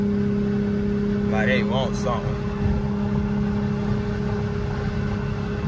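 A Mercedes W210 pulls in third gear in manual mode, a steady engine drone from inside the car, with a voice speaking briefly over it.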